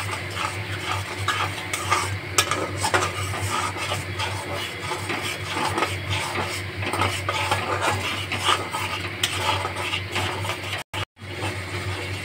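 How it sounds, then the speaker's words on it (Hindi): A curd, cashew and chili gravy is stirred slowly in a pan over low flame, with a spoon scraping and clinking steadily against the metal under a constant background hum, and no talking. "और धीरे धीरे ऐसे चलाते रहें।"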